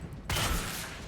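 Gunfire in Quantum Break bursts in suddenly after a quiet moment, a loud close crack fading into a rushing, crackling tail.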